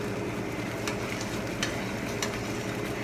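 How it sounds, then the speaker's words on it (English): Watermelon jelly at a rolling boil in a pot, stirred steadily, giving a continuous bubbling, sizzling wash with a few sharper spoon scrapes and clicks against the pot, fairly close. "As I continue to stir it"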